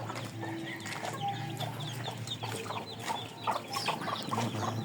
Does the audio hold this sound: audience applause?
no